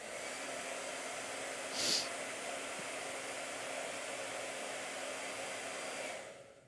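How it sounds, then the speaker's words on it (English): A blow dryer runs steadily drying paint on a painting, a constant close whooshing hum that holds for several seconds before cutting off at the end. "Blow dryer."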